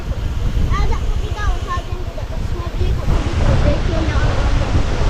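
Wind buffets the microphone of a GoPro Hero 10 Black outdoors in the countryside, a loud, continuous low rumble and roar under people talking nearby.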